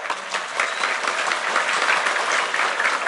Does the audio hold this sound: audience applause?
yes